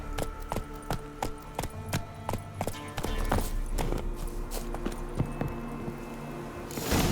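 Horse hooves clip-clop in a steady trot in The Witcher 3 game, sharp regular beats up close, with a low rumbling ambience rising and continuing beneath them.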